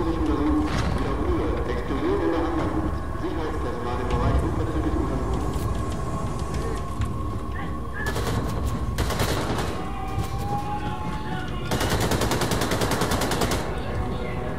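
Dual-wielded guns fire in the first-person shooter Wolfenstein 2, rapid bursts of automatic gunfire in several loud stretches over a dense, noisy game soundscape, with someone talking briefly.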